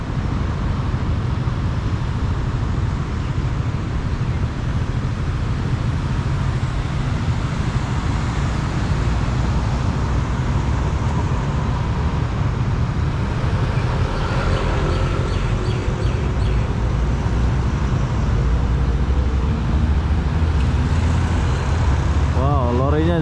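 Steady roar of street traffic with cars passing at a red light in Kajang, Malaysia, a continuous close wash of engines and tyres with a faint bird now and then.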